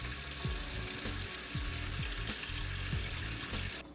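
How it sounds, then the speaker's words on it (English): Water runs steadily into a water bath canner for home-canned applesauce, a continuous rushing pour with a few low knocks and thumps of the pot throughout, fairly close and with no talk. "Filling the water bath canner with water to put on the stove to start heating up the water."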